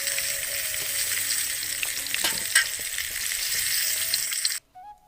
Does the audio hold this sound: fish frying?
yes